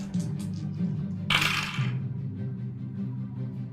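Dice rolled for a tabletop game make a quick rattling clatter that tumbles and settles after a moment, heard close over a low room hum with no speech.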